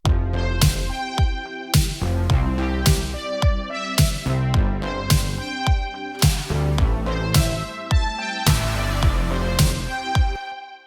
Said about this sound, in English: So I added in a kick and some snares, and I added a hi-hat